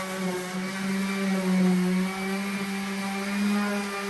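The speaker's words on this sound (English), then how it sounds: "Here I'm just using my electric sander just to sand down the final project" An electric sander works on wood for a pipe-and-wood toilet paper stand, giving a steady, loud, droning whir with a constant pitch that swells slightly midway.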